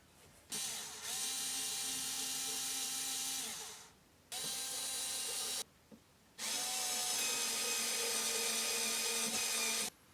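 Cordless drill driving screws into a soft wood garden planter, two sustained whirring runs of a few seconds each with a brief pause and short blip between, loud and close with no talk.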